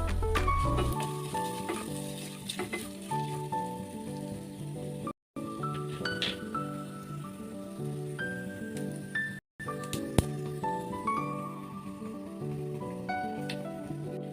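Spice powders fry and sizzle in a pan while being stirred for a kuzhambu, a soft continuous crackle and scraping mixed under melodic background music, with two brief cuts of silence.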